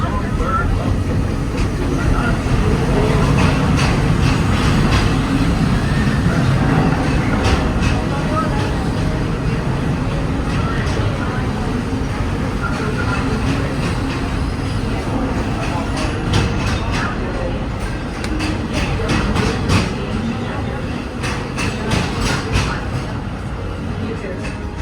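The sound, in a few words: Walt Disney World Railroad train running on tracks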